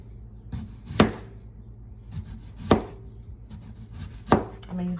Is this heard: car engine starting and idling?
no